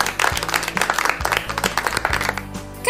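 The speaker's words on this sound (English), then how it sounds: "You deserve an astounding clap." Quick, crisp applause plays over a low looping musical backing on a children's English lesson radio broadcast, a continuous patter of claps at moderate loudness with no speech.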